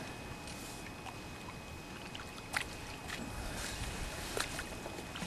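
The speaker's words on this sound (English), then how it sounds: "no doubt you can hear it splashing away" Hooked common carp splashing and thrashing at the landing net at night on a commercial carp fishery, a dense watery wash with a few sharper slaps standing out, fairly close and steady throughout, with no voices.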